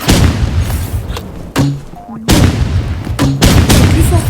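A grenade launcher fires in the video game Rivals, giving repeated heavy booming blasts with thumping explosions in quick succession. Loud, dense gunfire and game effects play throughout.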